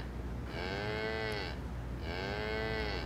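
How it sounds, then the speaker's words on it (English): A mobile phone ringtone of a mooing cow goes off twice in an office meeting, each moo a clear, drawn-out lowing call about a second long, separated by a short pause, with no talk over it. "he's interrupting it with a mooing cow"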